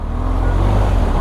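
Steady road traffic in Mumbai, a continuous rumble of car and vehicle engines close by, loud and unbroken, with no voices over it.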